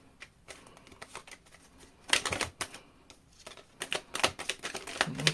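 Tarot cards are shuffled close by in several bursts of quick riffling clicks, with short pauses between them and louder flurries toward the end.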